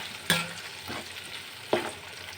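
Indian gooseberries stirred into hot spiced oil in a pan, a steady low sizzle with two sharp scraping strokes of the spoon and a fainter one between them.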